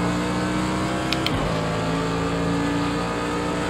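A loud Formula 1 engine from the racing game Project Cars 2 screams at steady high revs, with a sharp double click and a brief pitch drop from a gear change early on.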